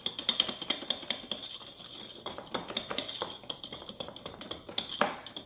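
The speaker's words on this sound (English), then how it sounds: "to grate some fresh nutmeg" Fresh nutmeg grated by hand for candied nuts: quick, light rhythmic scraping strokes with metallic clinks, close and fairly quiet.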